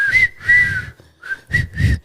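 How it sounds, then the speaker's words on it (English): A whistle sounds in several short shrill blasts, two longer ones then quicker bursts, loud and close, with no talking. "why would she be playing with a whistle?"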